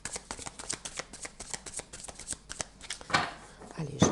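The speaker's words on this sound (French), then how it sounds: "je passe mon temps à battre les cartes" Tarot cards are shuffled by hand in a rapid series of crisp riffling snaps, each card slap distinct and close, with a few louder flurries near the end while someone speaks.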